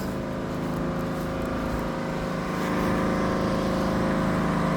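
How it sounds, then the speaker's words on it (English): A vacuum truck's heavy diesel engine drones steadily with a deep, rumbling idle that grows slightly louder toward the end, with no voices. "That's a vacuum truck."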